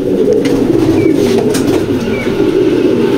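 Pigeons cooing in a loft housing quality Maxi pigeons: a dense, steady bed of low throaty cooing from many birds close by, continuous and fairly loud, with faint higher chirps.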